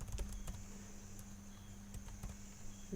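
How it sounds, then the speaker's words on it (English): Quiet typing on a computer keyboard while filling in a signing app form, scattered faint key clicks over a steady background hum, with no talk. "you have to type out the name of your organization"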